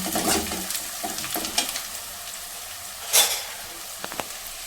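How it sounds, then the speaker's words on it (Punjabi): Ridge gourd tumbles into lightly browned onions frying in a pan, bringing a steady sizzle with a sharp hiss and crackle burst midway, plus scattered stirring clicks close by. "ਸਾਡੇ ਪਿਆਜ਼ ਹਲਕੇ ਹਲਕੇ ਬਰਾਊਨ ਹੋ ਚੁੱਕਿਆ ਹੁਣ ਅਸੀਂ ਇਹਦੇ ਵਿੱਚ ਪਾਵਾਂਗੇ ਤੋਰੀਆਂ"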